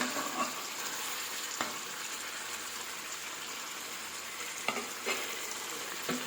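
Meat curry sizzles in a frying pan while a utensil stirs it, soft steady frying broken by a few sharp scrapes and clinks against the pan.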